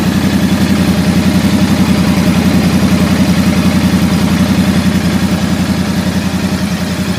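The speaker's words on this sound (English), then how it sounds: "this is how exhaust sounds" A Royal Enfield Bear 650 motorcycle idles close up, its exhaust putting out a loud, steady, low throb with an even rapid pulse throughout.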